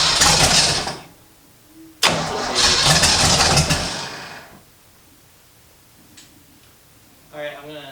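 First start of a turbo V8 swapped into a Toyota Corolla: two loud bursts of cranking and catching engine noise with a pause between, then quieter ticking and a brief rough idle at the end, close to the microphone.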